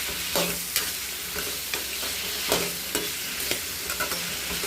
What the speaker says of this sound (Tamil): கருவேப்பிலை போட்டுக்கலாம், பூண்டு தட்டி போட்டுக்கலாம், வாழைக்காய் போட்டுக்கலாம், நல்லா கிளறி விட்டுக்கலாம்